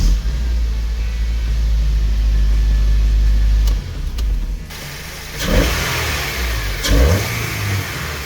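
A K24 VTEC engine swapped into a Toyota Camry rumbles loudly at close range with a deep steady idle, then drops off and rises in two sharp revs, with no voices over it.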